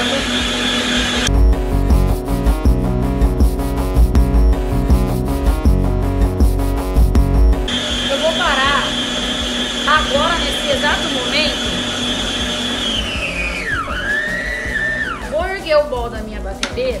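An electric stand mixer beats batter at low speed with a loud steady whir and rubbing churn, then continues more softly with scraping while someone talks over it.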